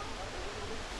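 Iglibog Falls in Igbaras, Iloilo, sounds as a faint, steady broadband rush of falling water heard from a distance on a hiking trail.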